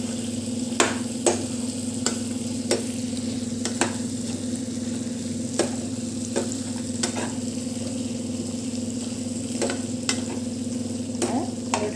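Chettinadu chicken roast sizzles steadily in hot oil in a pan, with a spoon scraping and stirring in irregular sharp strokes over the constant frying hiss.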